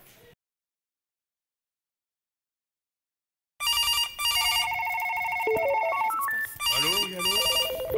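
A telephone rings in a comedy sketch: a short blip, a few seconds of silence, then a loud electronic ringtone with repeating tonal melody phrases continuing to the end, no speech.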